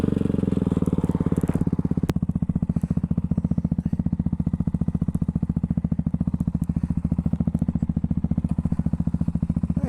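A Ducati Hypermotard 698 Mono single-cylinder motorcycle with a spoked front wheel runs continuously at a steady pace, its engine pulsing in an even, rapid beat with wind and road noise around it.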